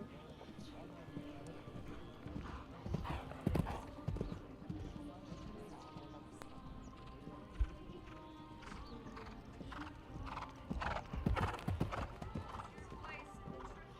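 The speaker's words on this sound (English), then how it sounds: "This is Mesita Quick PS, another German-bred horse." A German-bred horse moves through a dressage arena at a medium tour event, its hooves clip-clopping in a steady rhythm with occasional louder strikes and a whinny, while a commentator talks over it.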